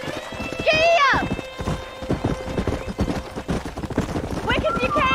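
A horse gallops with fast, steady clip-clop hoofbeats in Red Dead Redemption, a neigh ringing out near the start and another near the end, with a shout heard over the hooves.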